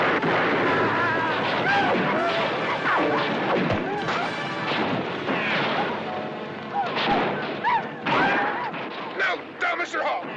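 Rifle shots crack out repeatedly in a frontier Western scene, sharp bursts over shouting voices and general commotion.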